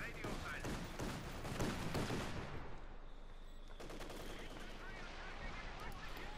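Luchs armored car firing its autocannon in Company of Heroes 2, dense rapid bursts of gunfire layered with explosions and battle noise, with a commentator talking over the action.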